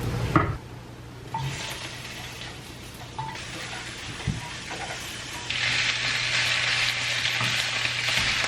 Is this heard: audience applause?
no